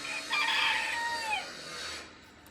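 A rooster crows once at moderate distance beside a chicken coop under construction, its long drawn-out call rising and then trailing off, with faint clucking and low outdoor background noise.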